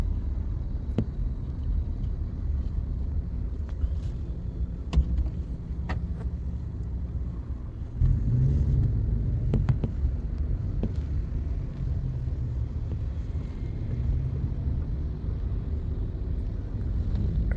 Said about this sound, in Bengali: তা গাড়ি আমাদের আস্তে আস্তেই যাচ্ছে